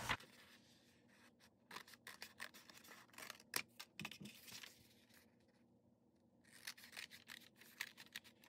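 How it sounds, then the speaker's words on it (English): Scissors cut along the edges of a cardboard Tunnock's tea cake box in a close, quiet run of crisp snips and scrapes, pausing briefly before another burst of cuts. "now I'm going to cut along these edges here"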